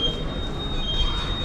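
Inside a Pune metro train: a steady, fairly loud rumble runs throughout with a thin high whine over it and no distinct bursts.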